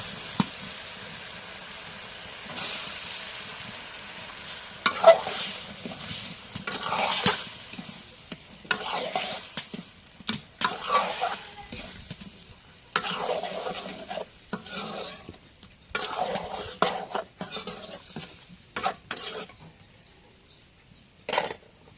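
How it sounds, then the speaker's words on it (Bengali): Fish heads fry in hot oil while being stirred in a pan for a Bengali potato dish, with soft sizzling and repeated scraping, clattering stirs of a spatula against metal, growing busier and more rhythmic over time. "এখন মাছের মাথাগুলো দিয়ে দিই।"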